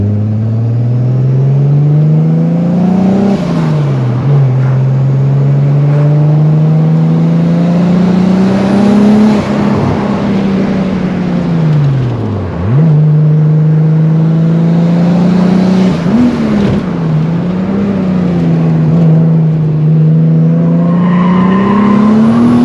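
Volkswagen Corrado VR6 turbo engine revving hard on a hill climb, loud and close from inside the car, rising through repeated climbs in pitch with sharp drops at each gear shift.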